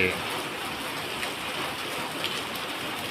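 Steady rain falls outside an office front where water collects in puddles. The downpour is a dense, even hiss of drops on hard surfaces, continuous and fairly close, with no voices.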